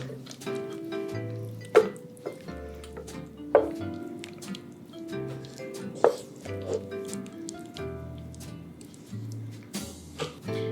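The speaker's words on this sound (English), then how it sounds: "So you're just gonna wanna mix it and stir it together." Thick Japanese curry paste mixture is stirred in a pot over medium heat, making wet squishing and dripping sounds with periodic sharper plops as the spoon moves, close up, over faint tonal background sound.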